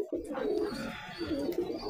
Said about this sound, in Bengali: এটা কিন্তু অনেক বড় কবুতর, খামারের ভিতরে বেস্ট।